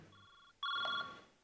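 A mobile phone rings during a Marathi stage comedy sketch with an electronic, tonal ringtone: a softer burst, then a louder, brighter one that fades out.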